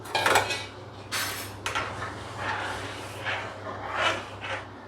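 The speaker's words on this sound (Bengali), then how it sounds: "কড়াইতে আমি জল বসিয়ে দিয়েছি, জলটা ফুটে উঠেছে। এবার এর মধ্যে আমি ম্যাকারনিটা ঢেলে দিলাম।" Elbow macaroni is poured into boiling water in a wok. Dry pasta patters and clinks against the metal pan in irregular bursts, close and fairly loud, over a low steady hum.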